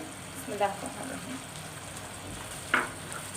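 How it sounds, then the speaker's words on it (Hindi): Turmeric and spices sizzling in a pan for aloo keema, a soft steady fry with two brief scraping stirs near the start and end. "तो हम हल्दी को अच्छे से भून लेंगे इसमें"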